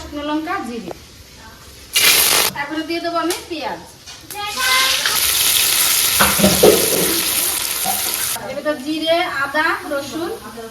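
Cumin, ginger and garlic sizzle in hot oil in a pan, a bright crackling hiss that flares loudly and holds for several seconds, with a voice talking before and after.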